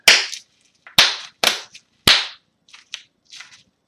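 Sharp, distinct hand claps at close range, four loud claps followed by a few softer ones, with no talk over them.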